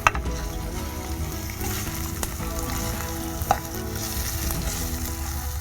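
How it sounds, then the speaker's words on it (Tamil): Ginger garlic paste frying in hot oil for shrimp pasta, a steady close sizzle with a few sharp knocks of a utensil against the pan, no voices. "இஞ்சி பூண்டு பேஸ்ட்டை போட்டுட்டோம். அதையுமே கொஞ்சம் எண்ணெயில் இஞ்சி பூண்டு பேஸ்ட்டை அப்படி அந்த சூடு படும்போது"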